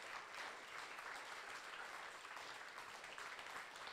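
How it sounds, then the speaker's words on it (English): Steady applause from a crowd at a college event, a dense wash of clapping that holds at an even level throughout. "please give them a massive round of applause."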